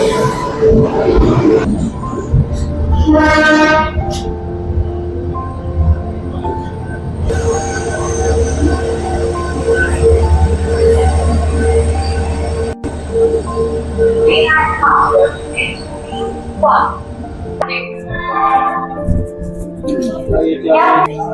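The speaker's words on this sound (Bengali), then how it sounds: "এই তো চলে এসছে ট্রেন" A train pulls into a station in the small hours of the night, its rumble building with long metallic wheel squeals and brakes. People talk nearby throughout.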